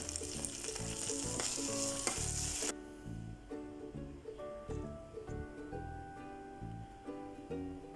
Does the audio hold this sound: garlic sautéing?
yes